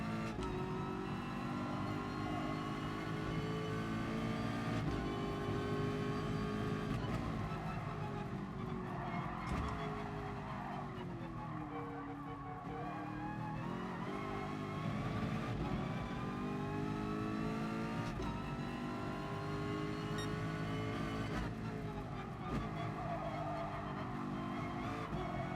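Race car engine in GT Sport holding steady under throttle, a continuous loud drone with shifting pitch as revs rise and fall, brief tire squeal mixed in, no talking throughout.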